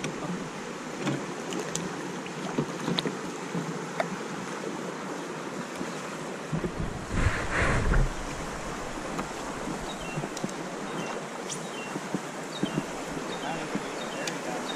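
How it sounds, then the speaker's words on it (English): Steady rushing water from a small dam-like waterfall on a river roars continuously, heard from a kayak, with wind buffeting the microphone and a brief louder swell midway. "Oh, there's a waterfall."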